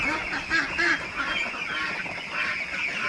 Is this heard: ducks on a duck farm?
yes